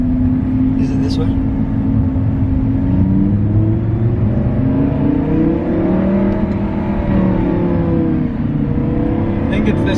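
An Audi R8 V10 Plus fitted with a new exhaust drones loudly from close by, its engine pitch rising and falling in smooth sweeps as it revs and cruises, with a brief clatter near the start and end.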